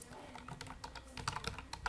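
Typing on a laptop computer keyboard while naming a new folder, a quick irregular run of soft, close key clicks over a quiet background, with no talking.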